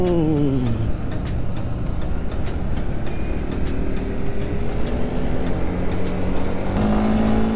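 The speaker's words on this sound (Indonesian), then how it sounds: "Nah terus suara mesin juga enak loh," A Honda CB150R motorcycle engine (2021) roars loudly and steadily with shifting pitch as the revs climb and fall, and repeated clicks sound over the constant drone.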